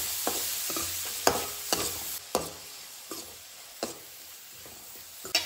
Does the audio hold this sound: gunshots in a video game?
no